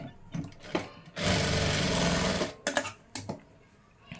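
A sewing machine stitches cross pieces of a blouse in one loud rapid run of about a second, framed by quieter handling clicks and short bursts of fabric movement before and after.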